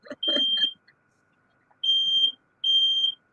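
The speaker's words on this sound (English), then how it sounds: "Uh-oh, smoke alarm." A smoke alarm sounds three shrill electronic beeps, loud and close, spaced about a second apart with silence between them.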